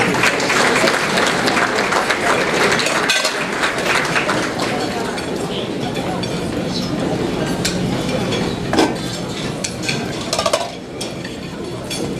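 A crowd claps steadily and loudly for about twelve seconds at a medical annual gala award presentation, with faint voices mixed into the applause.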